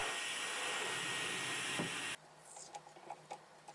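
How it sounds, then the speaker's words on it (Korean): A hair dryer heating leftover tape on a putter shaft blows a loud, steady whooshing hiss for about two seconds, then cuts off abruptly, leaving faint clicks and handling noises. "남아있는 테이프는 드라이기로 가열해주면 쉽게 제거할 수 있어요."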